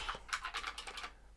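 Clicky IBM Model M keyboard being typed on beside a 386 computer: a close, quick run of sharp, crisp keystrokes in an uneven rhythm, with no voices.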